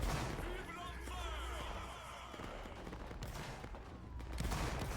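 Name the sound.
gunfire in a video game battle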